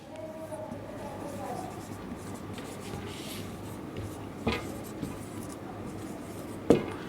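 Chalk or marker scratches on a classroom board as a teacher writes, with faint scraping strokes and a couple of sharper taps under low room noise.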